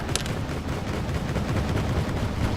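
BRDM-2 armored car firing in the Wargame: Red Dragon game, a dense, rumbling barrage of rapid gunfire and booming blasts that runs continuously and loudly throughout.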